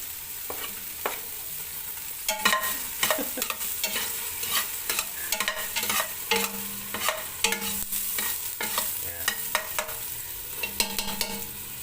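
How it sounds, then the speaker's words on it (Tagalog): Garlic sizzles in a hot pan with frequent scraping stirs, a close, continuous frying hiss broken by clattering utensil strokes. "Tapos, magigisa tayo ngayon ng sibuyas bawang."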